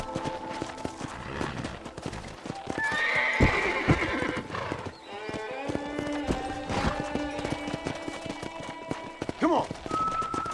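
Horse in the Red Dead Redemption video game clip-clopping along and whinnying, hoofbeats running throughout with a loud neigh in the middle and another near the end, with game sounds mixed in.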